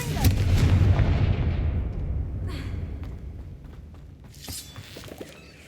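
A fiery Confringo blast spell from the Hogwarts Legacy video game erupts as a loud, booming explosion that rumbles and slowly fades, followed by quieter crackling debris.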